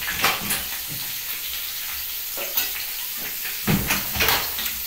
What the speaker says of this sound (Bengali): প্রথমে আমি ওলটাকে দিয়ে দিচ্ছি।